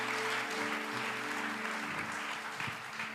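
A church congregation claps in praise of the Lord, sustained applause filling the room over low, steady musical tones that hold underneath.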